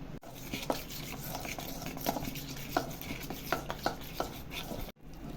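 A spoon works through a mashed boiled potato and spice filling for mirchi vada, making a steady scraping and squishing rhythm in the pan, close and moderately quiet, with no talk.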